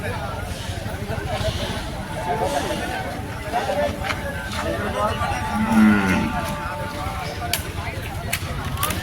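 Cattle moo nearby amid a busy Sunday cattle and ox market, with background voices and shuffling noises under a low bovine call.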